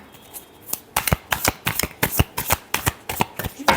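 Tarot cards riffle and slap together in quick, crisp bursts of shuffling, close and alone, with about a dozen sharp snaps following one another in an uneven rhythm.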